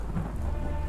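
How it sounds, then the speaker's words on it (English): Thunderstorm in the video game Crimson Spires, dense rain hissing steadily over a deep rolling rumble of thunder, loud and enveloping for a brief moment with no voices. "Suddenly, another flash of lightning distracts me for just a second."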